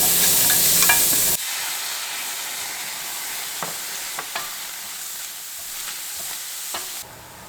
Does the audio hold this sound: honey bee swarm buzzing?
no